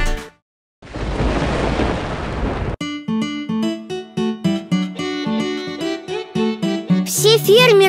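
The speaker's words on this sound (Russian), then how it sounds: "Это гремит гром." A sudden roaring rumble of thunder fills a couple of seconds, then cuts off abruptly as a bright, bouncy song with singing begins.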